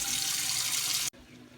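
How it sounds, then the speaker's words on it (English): A kitchen tap runs loudly into a big pot being filled with water for boiling potatoes, a steady close hiss that stops abruptly after about a second. "So what I'm going to do is fill my pot up with water."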